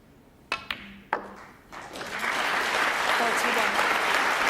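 A few crisp snooker ball clicks sound during a 2014 Welsh Open match between Ronnie O'Sullivan and John Higgins. Dense crowd applause then swells and holds steady and loud.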